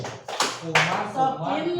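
Group clapping for the 'tepuk kumang' routine at an ice-breaker session: a few sharp, close claps in quick succession, mixed with voices chanting and talking.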